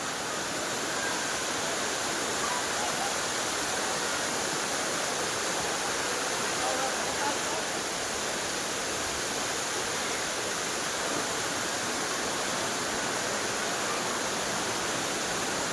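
Steady, dense rush of falling water at the Jata Shankar waterfall in the Gir forest near Junagadh, a constant broadband roar that stays even throughout with no break.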